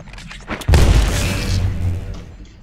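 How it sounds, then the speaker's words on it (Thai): A grenade blast in the video game Titanfall 2 lands as one sudden, heavy boom after a short lead-in, then rumbles and decays for about two seconds, loud and close with no talk over it. "เป็นอะไรกับการปาระเบิดตัวเองวะเนี่ย"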